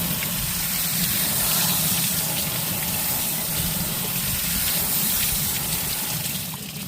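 Tap water runs steadily and loudly as tumblers are rinsed under it, a continuous gushing splash into a sink that eases off slightly at the end, with no talking.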